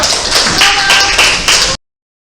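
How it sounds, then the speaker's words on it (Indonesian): An audience in a classroom teaching session applauds, a dense, loud burst of hand clapping that carries on steadily for almost two seconds, then cuts off abruptly. "Berdiri dulu, tepuk tangan lagi buat yang 3 pengalaman bikin proses tadi"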